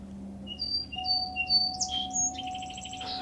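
In spring, a red-winged blackbird gives a string of bright whistled notes that build into a harsh, rattling trill. It sounds nearby and carries clearly over a faint steady hum, with no voices.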